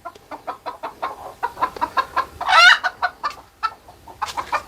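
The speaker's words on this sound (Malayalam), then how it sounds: "അടയിലുള്ള കോഴിയാണ്" A broody hen about two and a half years old clucks close up in a steady stream of short, low, rhythmic notes, rising briefly into a louder, agitated squawk midway.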